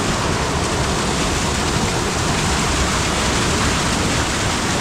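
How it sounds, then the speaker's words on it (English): Steady, loud rushing of a waterfall at a cold scenic spot, a dense unbroken roar of falling water filling the whole stretch with no voices. "See this waterfall here."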